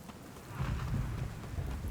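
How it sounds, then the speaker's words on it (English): Thunder rumbles through a lightning storm in the video game The Cycle: Frontier, a short, low, rolling boom that swells and fades with no speech over it. "And lightning strikes. So I have to keep moving so I'm not struck by lightning."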